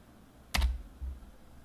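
A computer keyboard gives a short burst of a few quick keystrokes, close and quiet, then a single softer thump.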